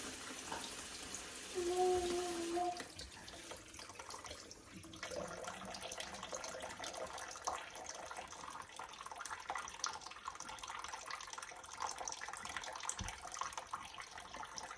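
Tap water dribbles into a bucket set up to soak ranunculus corms, a faint, continuous trickle and splash with a brief higher tonal squeak near the start, steady throughout.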